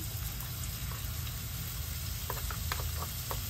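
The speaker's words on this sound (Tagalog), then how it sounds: "Nagpainit na ako ng mantika sa kawali. Unahin natin ng luya." Ginger sizzles in hot oil in a wok, a constant close crackling hiss with a few brief spattering pops near the end.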